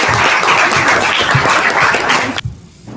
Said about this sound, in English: let's give the girls cross country team a round of applause